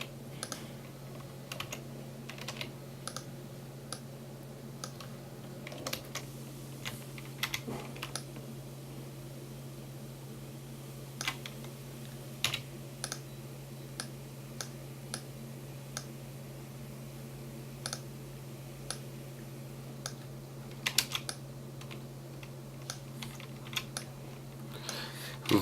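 Sparse, quiet clicks of computer keyboard shortcut keys over a low steady hum, single taps and short bursts scattered irregularly, with a brief cluster near the end.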